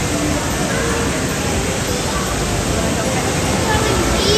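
Water flows and splashes steadily at a garden water feature at a holiday lights destination, a loud, broad, constant rush with no pauses, close by.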